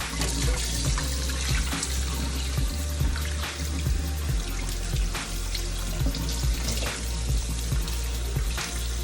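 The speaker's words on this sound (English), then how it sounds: "wash them off in some cold water." Running cold tap water splashes steadily into a sink, with occasional knocks and handling sounds as fish are rinsed under the stream.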